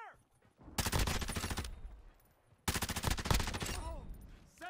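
Two long bursts of rapid machine-gun fire in a video game firefight, loud and close, separated by a brief lull, with a brief voice between them.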